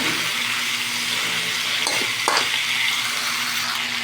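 Cleaned chicken intestines, washed after soaking in vinegar with pepper and salt, sauté loudly in a pan. The hiss is bright and continuous, with a couple of brief stirring scrapes near the middle and no voices.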